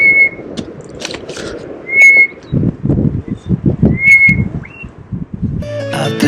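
Small melodious birds sing on the Robberg hike on South Africa's Garden Route, giving a few thin whistled notes spaced a couple of seconds apart over nearby crunching footsteps on the trail.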